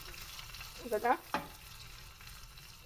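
Green chilli and sesame seeds hit hot oil in a tempering for rava dhokla, giving a short burst of crackling sizzle and popping near the middle, with one sharp spit, before settling back to a faint low hiss.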